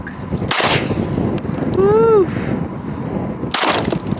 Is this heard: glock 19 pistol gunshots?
yes